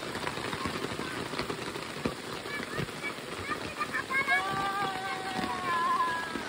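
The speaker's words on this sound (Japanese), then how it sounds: "すごい雨。" Heavy rain on Amami Oshima, a dense steady wash of rainfall with people talking and exclaiming over it throughout.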